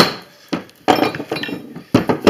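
Hammer blows knock the cap off a Jeep Cherokee CV shaft. A series of close, sharp metallic knocks comes in uneven bursts, some quick and clustered, with no voices.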